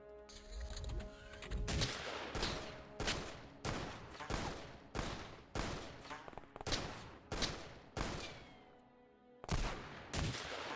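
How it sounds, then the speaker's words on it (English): Gunfire from a firefight in the video game XCOM: a rapid series of loud, cracking shots and short volleys, fairly evenly spaced, with a brief lull before the final bursts. "Shooting down the stairs is difficult angles that are making a lot of shots miss"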